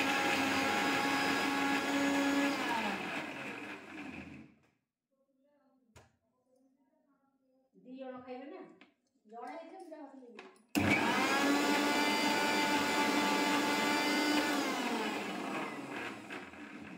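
Kitchen mixer grinder blending almonds and other ingredients into a smooth paste for an eggplant dish, two long loud grinding bursts separated by a pause, with brief softer clatter and voice sounds in between.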